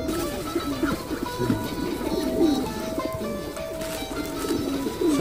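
Pigeons coo repeatedly through a busy outdoor scene, their soft throaty calls close by amid scattered chirps and general background noise, with a faint voice now and then.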